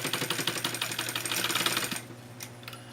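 A sewing machine runs a steady stitching seam along a marked line on synthetic bag fabric, its rapid needle ticking loud and close for about two seconds before slowing and stopping.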